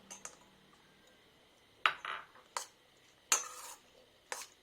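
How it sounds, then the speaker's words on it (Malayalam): A spoon mixes fruit salad with cashews and raisins in a bowl, giving a few sparse, quiet clinks and scrapes with pauses between them. "എല്ലാ ഫ്രൂട്ട്സും ഇതിൽ നന്നായിട്ട് മിക്സ് ചെയ്യാൻ പോവാണ്"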